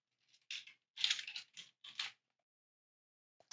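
Quiet clicks of computer keys in a few short bursts separated by pauses, typed close by in an otherwise silent room.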